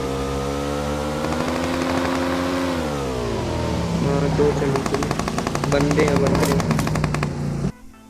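Gunfire in a video game, with rapid machine-gun bursts and scattered shots alongside a revving vehicle engine, loud and close, while someone speaks briefly over it.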